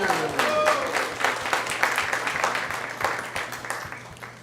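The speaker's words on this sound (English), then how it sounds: "So give them a big round of applause." A hall audience at a spiritual discourse gives a sustained round of applause, dense overlapping claps that swell early and slowly thin out, with a faint voice near the start.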